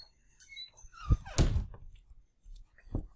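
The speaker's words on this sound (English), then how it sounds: "I have to let the dog out of the room." A dog being let out of a room, with thumps of a door, a soft whimper and scuffling, then a spoken word amid sparse indoor sounds.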